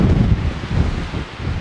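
Strong mountain wind buffeting the microphone on a sunrise hike in Torres del Paine, a loud, close, continuous low roar that gusts unevenly throughout.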